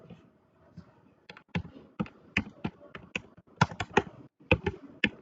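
Code being typed on a computer keyboard, with close, distinct key taps arriving in uneven bursts and short pauses between them.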